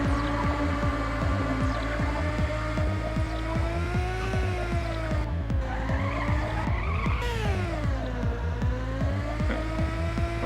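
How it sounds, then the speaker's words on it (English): Car drifting in the Ridge Racer Type 4 racing game: a loud engine drone with a long, wavering tire squeal sliding up and down in pitch, continuous and upfront. "It was a weird drift"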